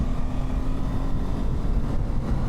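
BMW F 450 GS motorcycle engine pulling hard in sixth gear while overtaking, a steady, buzzing drone heard from the rider's position with wind rush, no talking.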